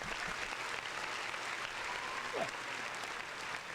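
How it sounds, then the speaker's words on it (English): Applause from a small group during a podcast episode, a steady dense patter of clapping that runs the whole moment at moderate, slightly distant level, with no voices over it. "Round of applause."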